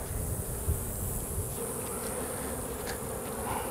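A dense swarm of bees hums loudly and continuously around an open beehive laden with honey, a close, steady buzz with occasional louder passes and a few faint knocks underneath.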